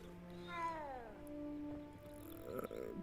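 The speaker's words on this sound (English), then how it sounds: "All these doggone cats in this game" A cat in the video game Hogwarts Legacy gives one drawn-out, falling meow, close and clear, followed by softer game sounds and a faint muffled voice.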